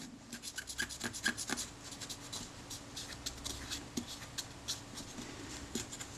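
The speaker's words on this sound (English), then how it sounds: "I'm wiping away any old grease along with any dust and dirt and grit that it might have accumulated" A cloth rubs old grease, dust and grit off a lever on a Kodak Retina IIa camera, making faint, quick scratchy rubbing strokes in irregular bursts, close up and quiet, with no speech.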